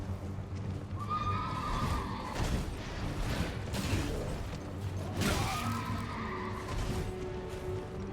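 Horse neighs and whinnies with clip-clopping hooves in Elden Ring combat, two loud whinny bursts rising over continuous battle noise and mechanical clatter.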